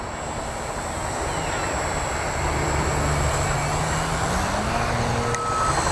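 An Addiction X RC aerobatic plane flies overhead, its electric motor giving a steady buzzing whine that rises and shifts in pitch as it passes, moderately distant over a constant background hiss.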